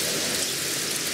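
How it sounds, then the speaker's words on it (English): Heavy rain falls steadily outdoors during garden planting, a loud, dense hiss of drops that continues evenly without a break. "it started to rain really heavy"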